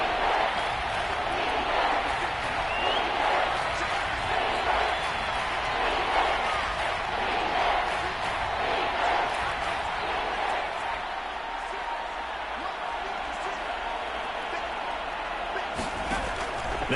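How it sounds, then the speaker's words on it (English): Crowd noise inside a domed stadium in an American football video game, a constant dense roar and murmur of fans with faint thumps, droning on for the whole stretch beneath a sports commentator's voice. "The crowd here in the Dome making things difficult."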